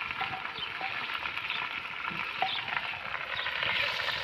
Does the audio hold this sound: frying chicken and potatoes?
yes